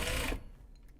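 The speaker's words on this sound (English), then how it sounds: "you can actually see the sewing process a little bit better" A sewing machine runs briefly while stitching the seam of a knot bag, a dense mechanical whir that stops abruptly after a fraction of a second and leaves faint ticking behind.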